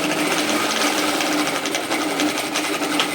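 A sewing machine stitches a seam on a lined fabric tote bag, a continuous, loud, rapid whirring rattle with an even rhythm from start to finish.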